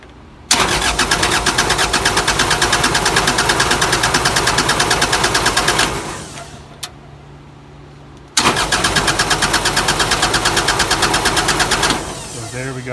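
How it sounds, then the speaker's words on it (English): An electric fuel pump on a 12kW Powertech diesel generator runs in two loud, rapid pulsing bursts, each lasting several seconds, with a quieter gap of low hum between them. "I'm going to run the pump for a little bit"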